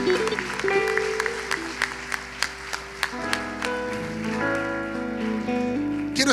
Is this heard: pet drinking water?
no